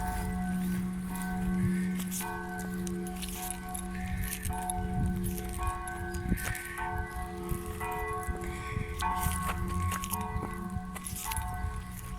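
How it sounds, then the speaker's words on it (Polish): Church bells ring continuously with overlapping clangs and a humming tone, dense and reverberant, with scattered metallic rattles throughout. "wyjątkowo dobitnie dzwony dzwonią"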